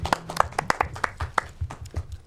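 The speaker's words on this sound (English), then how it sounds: "Give you a little clap in there." A few hands clap in a loose, uneven rhythm during a live show, the sharp claps fairly close and quiet over a soft low background.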